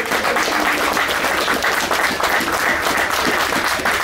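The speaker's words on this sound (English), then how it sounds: "I'd like you all to give a big round of applause for our town band that we're very proud of" A crowd gives the town band a round of applause at the Westport train station 150th anniversary: loud, continuous clapping that stays steady throughout.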